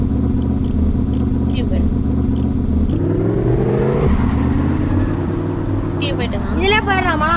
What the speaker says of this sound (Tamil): நான் வண்டி ஓட்டுறேன்.